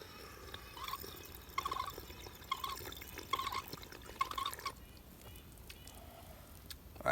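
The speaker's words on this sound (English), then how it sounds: "start the flow and water will start to come out." Water trickles and drips from a Lifesaver Liberty water filter bottle, a steady small flow in intermittent spurts that fades out partway through, heard up close with no speech.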